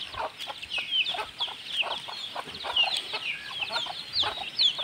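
Native chickens and small chicks cluck and peep continuously close by, with high chirps from the chicks layered over the hens' lower clucking in a busy, lively chorus.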